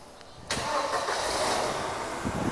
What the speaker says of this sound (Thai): เดี๋ยวจะสตาร์ทรถให้ดูนะครับ